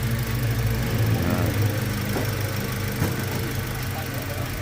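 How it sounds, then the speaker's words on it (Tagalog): A 2021 Toyota Rush engine idling after being revived, a steady low rumble with faint mechanical ticking and vibration, close by, while someone talks over it. "Tahimik ng makina."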